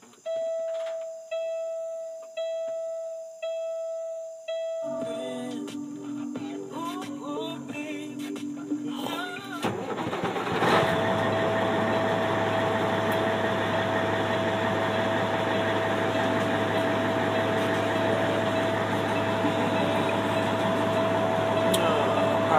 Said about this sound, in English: So, see how it starts.